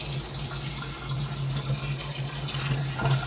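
Water running weakly from a pump driven by a VFD inverter on solar and AC power, a steady soft gush under a low motor hum, continuous and close for the whole stretch.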